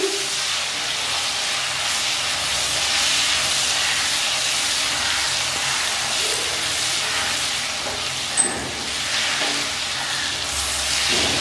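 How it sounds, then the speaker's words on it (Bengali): Spice paste with a pinch of sugar sizzles steadily in a pan for a rui fish curry, a dense continuous frying hiss at close range with no break and only a faint stir-like knock near the end. "সামান্য কয়েক দানা চিনি, ভালো করে কষিয়ে নিচ্ছি।"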